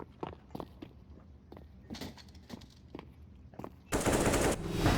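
Gunfire in the video game CS:GO starts as scattered single shots and quick bursts, then turns into a dense, loud stretch of sustained automatic fire near the end.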